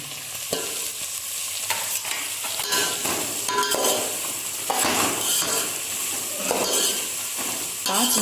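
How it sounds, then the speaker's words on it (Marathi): Yam, potato and brinjal being sautéed in a pan, with steady frying sizzle broken by repeated scraping stirs and occasional clinks of a spoon against the pan, close up. "त्याच्यामध्ये सुरण, बटाटा, वांग सुद्धा आता परतून घेत आहे"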